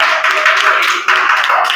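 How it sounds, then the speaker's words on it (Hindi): Students in a classroom clap for the winning team of a Sunday quiz. The clapping is brisk, close and fairly loud, with dense overlapping claps over a couple of seconds. "तालियां हो जाएगी।"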